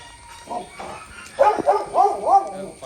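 Dog barking at close range with a few quick yips and whimpery barks, with a voice talking faintly in the background.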